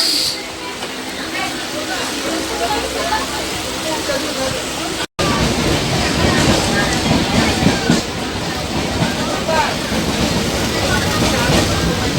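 A constant rumbling roar inside a moving Bangaon train carriage from Ranaghat fills the space, with rattling and hissing throughout and no clear pauses.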